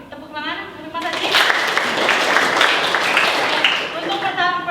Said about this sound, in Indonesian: tepuk tangan untuk Mas Haji